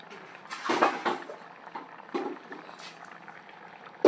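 Fish curry simmering in a pot, a soft bubbling hiss heard up close, with a few louder clinks and knocks of kitchen utensils breaking through.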